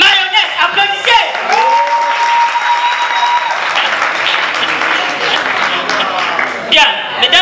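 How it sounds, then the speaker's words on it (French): A French audience bursts into loud, dense applause on cue at a variety show, a steady wash of clapping over several seconds with a voice briefly audible at the start and end. "applaudissez"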